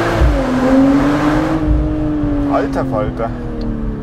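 A BMW M440i xDrive engine revs hard in a tunnel on a manual downshift, a loud rising and falling roar with echoing reverberation. A person speaks briefly over it.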